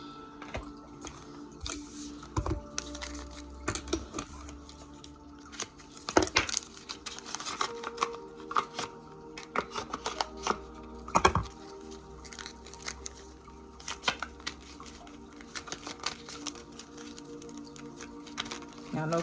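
Tarot cards being shuffled, soft irregular riffling, slapping and crinkling bursts close by, quiet between shuffles, with occasional faint talk.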